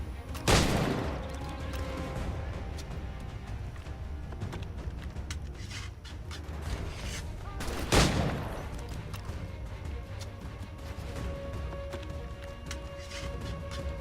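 Gunshots ring out in Assassin's Creed 3, two loud, sharp reports several seconds apart. Each one echoes over a steady outdoor background with faint movement and clatter.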